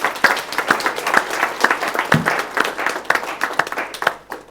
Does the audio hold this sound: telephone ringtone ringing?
no